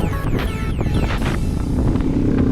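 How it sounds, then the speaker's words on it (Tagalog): Strong wind blows steadily and loudly at the Taal Volcano viewpoint in Tagaytay, buffeting the microphone with a dense low roar. No one speaks, and faint higher tones pass through briefly. "Malakas, medyo may kalakasan ng hangin ngayon"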